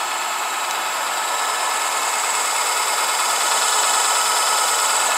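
A small electric motor on a test run spins at full speed, giving a loud, steady high-pitched whine with a buzzy edge that holds constant throughout, with no voices.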